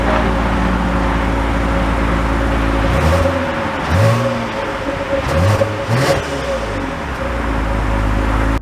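A 2022 Toyota Avalon XLE sedan pulls away and accelerates, its engine climbing through a few rising revs over a constant loud cabin rumble, heard from close inside the car.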